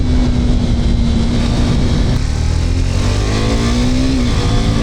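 Motorcycle riding through empty city streets at night, its engine a loud, steady drone held close throughout, with a rising tone near the end as the bike speeds up.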